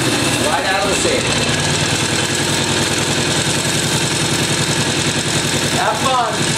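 Norton motorcycle engine running close by with a loud, steady mechanical throb and rapid firing pulses, a voice briefly audible over it near the start and end.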